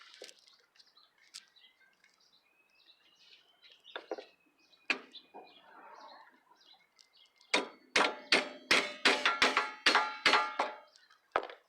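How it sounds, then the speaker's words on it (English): A series of sharp metallic hammer blows on the rear wheel hub of a 2003 Toyota Corolla rings out, a few scattered strikes at first, then a rapid run of loud, ringing hits close by. "this one did require a couple of hammer strikes in order to loosen the hub"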